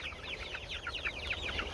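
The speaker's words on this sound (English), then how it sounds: "And then the chickens eat the whole wheat, and it's better for the chickens." Several chickens cluck and chatter in quick, overlapping bursts, fairly close, with no talking.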